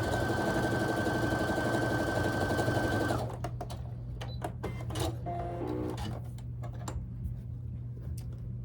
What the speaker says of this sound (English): we're just going to sew those together